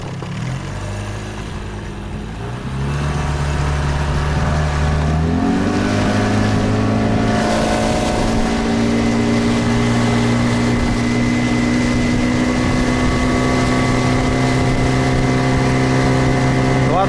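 A new Gladiator 9.9 outboard boat motor runs on its first start during break-in, held steady at low throttle; a loud, continuous engine drone with strong harmonics that shifts pitch upward once and then holds a steady tone.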